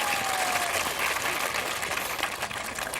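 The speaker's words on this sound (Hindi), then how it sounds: "उनके लिए भी ताली बजाइए वरना आएंगे नहीं आपके पास।" Audience applause fills the clip at a public election forum in Kanpur, a dense, steady clapping from a crowd that stays loud throughout and eases slightly toward the end.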